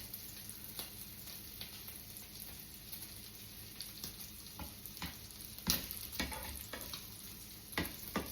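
Paneer cubes frying in butter for a comfort curry, a steady broadband sizzle with intermittent sharper crackles and stirring scrapes, close and continuous with no talk.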